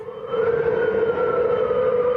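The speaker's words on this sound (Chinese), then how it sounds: "发现这个声音是固定国中的警报器出问题" Loud, sustained wail of a faulty junior high school warning siren blaring near Tingzhou Road, Taipei, at about 3 a.m., a single steady pitched tone with an overtone, rising in after a softer start and holding throughout.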